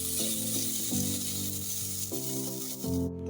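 Food being stirred in a frying pan, with steady sizzling overlaid by rubbing, scraping strokes that repeat every second or so, close and fairly loud, without any talking.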